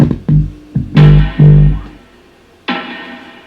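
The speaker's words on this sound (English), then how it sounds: "there's this light snare that has this cool reverb that kind of gives like this ambience to the track" Sparse, light snare hits with a roomy reverb tail, several strikes spaced unevenly with a gap before a final ringing hit.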